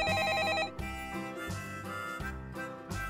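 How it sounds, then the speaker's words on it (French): A telephone rings with a repeated electronic trill, steady and fairly loud, in short bursts with brief gaps and no talking. "juste au moment où j'entrais dans sa chambre, le téléphone a sonné"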